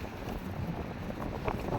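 Strong outdoor wind buffets the microphone in a constant low, rumbling roar with gusty swells, close and loud, no voices over it.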